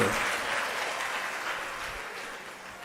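Steady audience applause fills a Hindu religious discourse on the Garuda Purana and Shiv Mahapuran, a dense, even patter of many hands that slowly tapers in loudness, with no speech over it.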